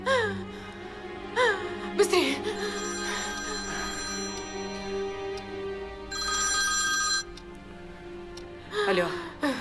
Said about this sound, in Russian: Звони, звони Олегу!